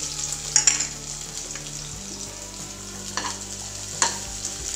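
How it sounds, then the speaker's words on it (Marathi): Finely chopped onion frying in leftover oil in a pan, a steady close sizzle with a few clinking stirs and scrapes, no voices. "आता यामध्ये एक बारीक चिरलेला कांदा तळून घेऊ"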